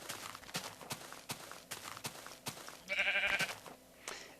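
Soft rhythmic footsteps trot across Minecraft terrain, then a short sheep bleat rises briefly near the end of the run, quiet and close, with no voices.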